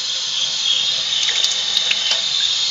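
Hot water running from a tap into a container while mixing liquid laundry soap, a steady close hiss of flowing water with a few faint squeaks and drips.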